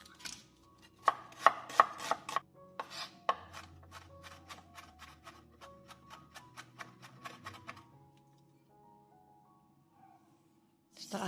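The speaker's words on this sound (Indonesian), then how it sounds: "kita cincang kembali." Knife chopping onion on a cutting board: shallots, garlic and half-moon sliced onion for an ayam kodok seasoning, with bursts of quick rhythmic taps, loudest early on, thinning out and falling quiet near the end.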